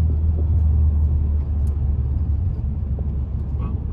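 A Volkswagen Mk7 GTI on an evening drive, heard from inside as a steady, loud low-pitched engine and road rumble that drones evenly throughout.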